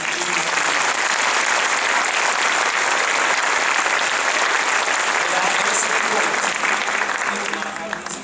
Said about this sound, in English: So I think we need to show them a round of applause.